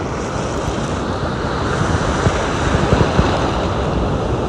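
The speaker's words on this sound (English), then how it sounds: "Mish dipping in the Atlantic" Atlantic Ocean waves washing in, a steady broadband rush with wind buffeting the microphone and a few louder surges toward the end; no voices.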